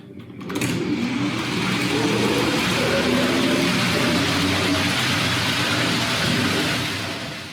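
A Hornby Bo-Bo electric model locomotive runs on steel track, its ribbed wheels giving a steady, close whirring and rumbling that rises in, holds evenly and eases off slightly at the end.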